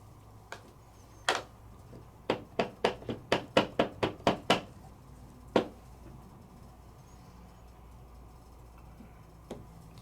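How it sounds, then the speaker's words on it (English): A rubber stamp pressed onto white paper at a craft table gives a quick run of about a dozen sharp, close taps in a tight rhythm, then a couple of isolated knocks, in a quiet room without speech. "let's stamp him up with my memento"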